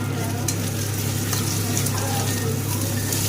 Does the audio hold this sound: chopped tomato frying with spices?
yes